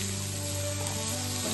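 Beetroot frying in a pan for a Telugu-style beetroot vepudu, a steady, close, continuous sizzle with a low hum running underneath and no talking.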